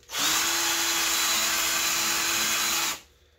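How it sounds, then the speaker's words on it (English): A grinding wheel cleans a rear strut removed from a 1995 Mitsubishi 3000GT, giving one loud, steady high-pitched whine for about three seconds before cutting off abruptly. "I'm gonna take my grinding wheel here and I'm gonna do some cleaning"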